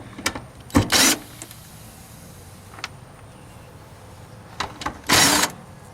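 A power tool spins out the 8mm bolts holding the fuel pump of a 1995-2000 Nissan Maxima. Two short, loud whirring bursts come close up, separated by scattered clicks and metallic taps, with no talk.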